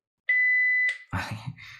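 A timer alarm beeps loudly as one sustained electronic tone, then a brief second one, followed by a short burst of muffled noise.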